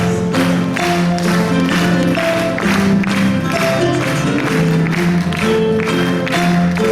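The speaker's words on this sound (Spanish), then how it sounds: "A ver esas palmas." An audience claps along in rhythm to live Paraguayan harp music, the steady hand claps blending with bright plucked harp strings and accompaniment that play loudly and continuously throughout.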